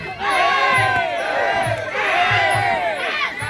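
A dense crowd roars and cheers loudly and continuously at a rural Thai boxing bout featuring young fighters, with shouting voices rising and surging in waves throughout.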